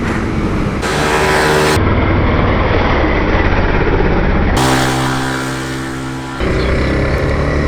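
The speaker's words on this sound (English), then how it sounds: "This is me pinning the throttle, 140 kilometers per hour" A 2019 Honda CB300R motorcycle accelerates at full throttle out of a corner toward 140 km/h, its engine droning loudly and steadily under heavy wind rush.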